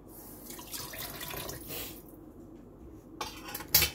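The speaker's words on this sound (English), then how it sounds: "The water's gonna go on." A kitchen tap runs steadily into a sink, a close broadband rush that shifts and thins midway, ending with a brief sharp clink like a dish or cutlery touching.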